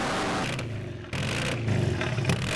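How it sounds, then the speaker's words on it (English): A drag racing car spins its tyres on the start line at a national drag meet, a loud, harsh roaring engine that briefly dips and surges across the short burst. "Griffith lighting up the tyres on the start line and pedaling"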